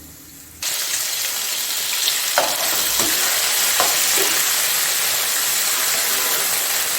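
Chicken gizzards frying and sizzling in a pan, a steady loud hiss that starts suddenly as they hit the oil, with a few clinks and scrapes of stirring over the constant crackle.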